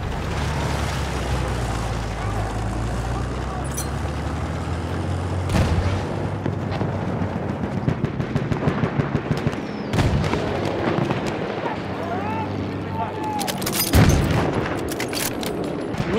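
Battlefield 1 battle with artillery fire and gunfire: a continuous rumble of distant booms broken by sharp, louder cracks and blasts, some near and some far, with a heavy explosion toward the end.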